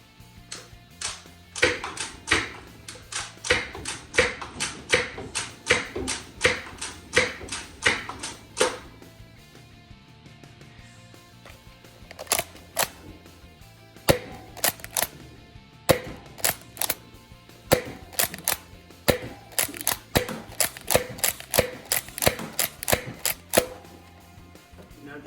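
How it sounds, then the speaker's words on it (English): A Nerf Rival Mirage blaster slam-fires foam rounds from a Pathfinder magazine in fast bursts of sharp, snapping shots, close and loud, with a brief lull midway before more rapid volleys. "Go fast with the Pathfinder mag. Attempting to slam fire if it'll allow me."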